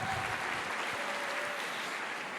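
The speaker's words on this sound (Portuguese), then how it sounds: "Dá uma salva de palmas, irmão." A congregation claps together during a church sermon, a soft, steady patter of many hands heard at a distance with no voices over it.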